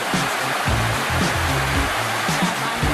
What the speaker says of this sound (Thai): ชั้นที่สองนะคะของน้ำตกเจ็ดสีค่ะ